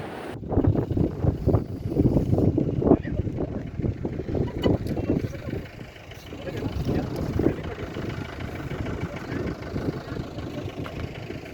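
Strong, cold wind at high altitude near Gurudongmar Lake in Sikkim buffets the microphone in heavy, rumbling gusts, with a low engine-like drone underneath; the roar eases briefly midway before picking up again.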